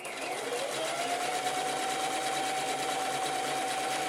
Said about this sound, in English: So let's sew.